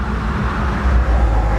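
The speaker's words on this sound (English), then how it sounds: "Car is moving." A Mercedes car with a swapped-in LS V8 engine moves off, its low engine rumble and road noise steady and close, rising slightly partway through.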